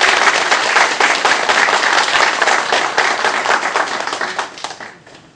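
Dense, sustained applause from an audience at a birthday party, many hands clapping loudly and steadily for several seconds before tapering off slightly at the end.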